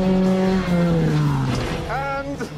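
Volkswagen Beetle-based desert dune buggy with a 2.4-litre Chevrolet engine and sequential gearbox, a loud close engine note sweeping down then climbing again as it revs over a running voice.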